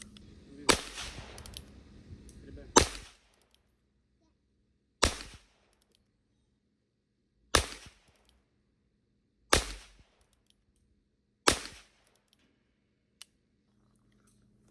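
Heritage Rough Rider .22LR revolver fired in a slow string of six sharp, close cracks spaced roughly two seconds apart, with quiet gaps between and faint handling noise near the start.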